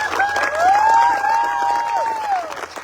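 An audience at a groundbreaking ceremony applauds and cheers, a steady wash of clapping with rising whoops and whistles over the top, fading slightly at the end.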